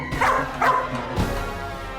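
A dog gives two quick, close yappy barks and then a softer third yelp, loud and clear with nobody speaking.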